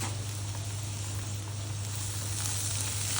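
Eel fish frying in a pan with no oil, giving a steady, close hiss of sizzling that carries on evenly throughout, with no voices.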